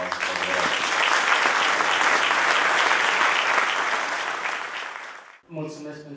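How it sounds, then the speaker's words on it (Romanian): Loud, sustained audience applause honoring members of a folk arts ensemble at an award ceremony, a full dense clapping that tapers off before a voice begins speaking. "haideți să aplaudăm"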